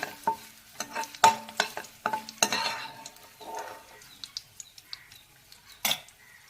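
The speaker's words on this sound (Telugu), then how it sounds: "కరివేపాకు పచ్చిగా ఉంటారు కదా అందుకే ఇలా తుల్లుతుందండి" Raw curry leaves spluttering in hot oil in a pan while being fried, with scattered sharp pops and crackles and the clink of a spoon against the pan.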